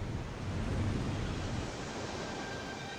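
Pacific Ocean surf where Redwood Creek meets the sea: a steady, broad wash of waves with wind rushing across the microphone, with no voices.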